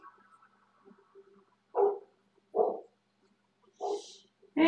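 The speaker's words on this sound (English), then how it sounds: "There goes Lil's barking again" Four loud, sharp barks from a dog, spaced about a second apart after a few faint whimpers and small noises, close by in an otherwise quiet room.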